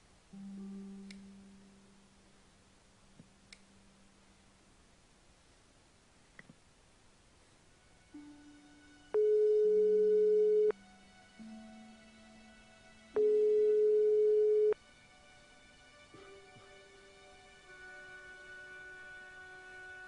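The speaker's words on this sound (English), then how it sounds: "Nico wasn't answering her phone." Unanswered phone call in the Broken Sword 5 video game: a sequence of electronic ringing and busy tones, with two loud sustained beeps among softer pitched tones, alone without talk.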